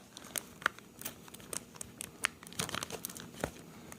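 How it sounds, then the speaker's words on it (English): Crinkling and tearing of a plastic zip bag as a sous vide NY strip steak is quickly unwrapped, with sharp irregular rustles and crackles close by and no talking. "all I'm going to do here is real quickly unwrap it"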